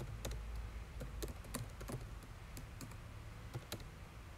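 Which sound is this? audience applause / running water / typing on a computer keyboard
typing on a computer keyboard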